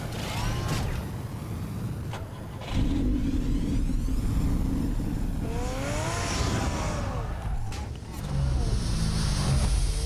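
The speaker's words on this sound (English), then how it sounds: "Then he's driving hella reckless." Car driven recklessly by Batman in Batman: The Telltale Series, a steady engine rumble that surges louder partway through, with a voice talking over it.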